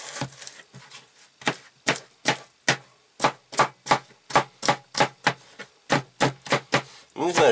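A Kizlyar Military knife chops through cucumber and tomato for a salad, each cut a crisp knock on the board in a fairly steady rhythm of about twenty strokes, close and clear with no talk.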